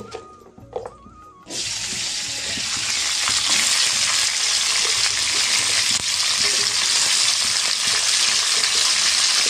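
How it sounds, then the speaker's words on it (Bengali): Flat beans drop into a hot wok and break into a loud, steady sizzle that holds close and continuous after a brief quieter moment at the start. "আগে আমি বরং এটা চাপিয়ে দিই, সিমটা ভাজতে দিয়ে দিই।"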